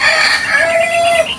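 A rooster crows once, loud and close, in a single drawn-out call that rises and then holds steady.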